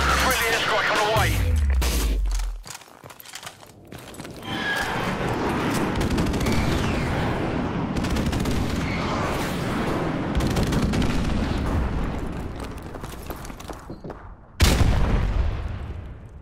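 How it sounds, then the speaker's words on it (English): A Call of Duty-style war game erupts with dense gunfire, rattling automatic bursts and heavy airstrike booms, continuous and loud, with one final sharp blast near the end and game announcer voice lines in the mix. "Friendly airstrike on the way."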